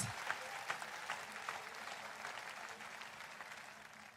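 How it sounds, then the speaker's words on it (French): A faint congregation applauds for Jesus during a French testimony, a soft, distant roll of clapping with a few sharper claps standing out and no talking over it. "Applaudissez pour Jésus."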